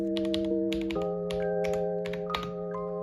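Fingers type steadily on an Akko 5075 Plus mechanical keyboard with yellow cream linear switches, producing close, soft clacking keystrokes in quick irregular runs over steady background music.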